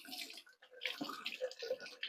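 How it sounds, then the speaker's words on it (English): Running tap water splashing over a hand-cranked rotary kitchen grater being rinsed in a sink, a continuous close spatter and trickle with shifting splashes. "Run it under the water."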